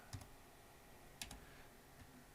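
Computer keyboard typing, just a few sparse, faint key clicks spread over a quiet couple of seconds, close and isolated with no speech.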